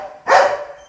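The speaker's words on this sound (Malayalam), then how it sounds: "കുരയ്ക്കണം, കാക്കയെ കണ്ടിക്ക് കുരയ്ക്കുന്ന പറയണം" A dog barks at a crow: one loud, close bark bursts out and then fades, with no other sounds around it.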